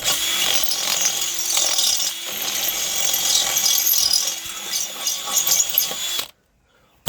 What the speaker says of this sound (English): I've probably got to ream it out just a little bit.